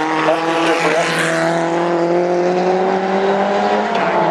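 Historic race cars roar through Madgwick corner at Goodwood, a Lotus chased closely by a Rejo, engines howling loud with a slowly falling pitch as they pass, tyres faintly scrubbing, a commentator's voice faint underneath.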